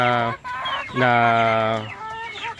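Dekalb Brown hens clucking close by, loud drawn-out squawking calls with brief pauses between them, a layered farmyard chorus of several birds.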